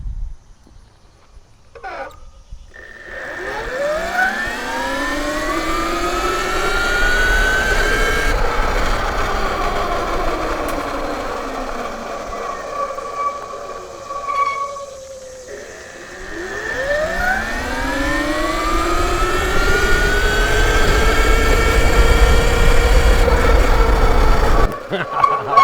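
A Sur Ron Luna Ludicrous R electric motorcycle, geared down by 20%, launches and accelerates. A loud, rising electric whine sweeps upward twice in two long pulls, with wind and road noise underneath.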